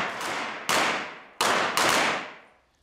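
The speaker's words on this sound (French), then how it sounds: "Ce jour-là, c'est le bruit du 38 spécial qui nous accueille." .38 Special revolver shots at an indoor police shooting range in Belfort, four sharp reports in about two seconds, each followed by a decaying room echo, loud and close with no talking.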